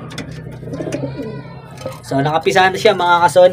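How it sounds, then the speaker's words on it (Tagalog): A racing pigeon coos in soft, low throaty notes close by, while someone talks over it. "Ito yung ibon natin mga ka-Sonic."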